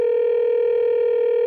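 A steady telephone dial tone hums without a break, loud and close, as a call is placed in a Minecraft series; no voices are heard.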